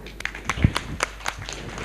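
Light, scattered clapping from a small group of classmates in a hypnosis class session, a brief run of separate claps rather than full applause.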